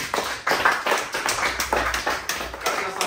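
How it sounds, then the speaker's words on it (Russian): Applause from a small group, steady clapping for a few seconds, fairly close and dense, with no talking over it. "Аплодисменты."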